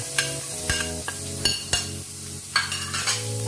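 Chili peppers go into garlic frying in a pan, giving a continuous sizzle broken by sharp clinks and scrapes of a utensil stirring against the pan, with no talk.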